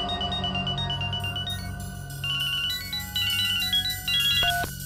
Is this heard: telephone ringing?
yes